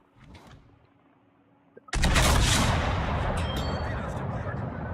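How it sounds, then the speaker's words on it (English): Torpedoes slam into a warship in the World of Warships naval battle game: after a quiet stretch with faint murmurs, one sudden loud blast erupts into a heavy, sustained roar of explosion and rumble that carries through to the end. "They're the torpedoes I was afraid of"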